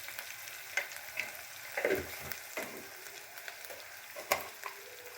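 Kalmi greens sizzle softly in a pan while being turned and stirred, with a faint frying hiss broken by scattered scrapes and clatters of a spatula, close but quiet with no talking.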